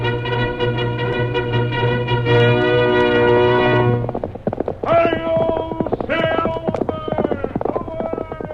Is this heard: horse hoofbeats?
yes